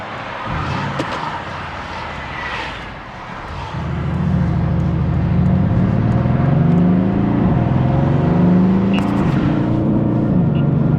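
A Mercedes-AMG GT engine drones low, then surges louder with rising and falling revs as the transmission slips under full throttle, heard from inside the car.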